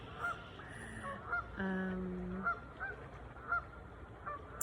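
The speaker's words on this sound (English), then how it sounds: "the seagulls are joining me right now" Seagulls call repeatedly outdoors, a series of short and drawn-out honking cries from a few birds at moderate distance, standing out against a constant rushing background.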